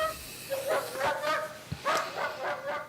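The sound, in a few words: German Shepherd dog barking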